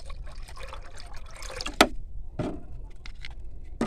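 Liquid tea-leaf fertilizer poured into a small amount of water, producing faint trickling and splashing with a few brief louder pours against a quiet room background.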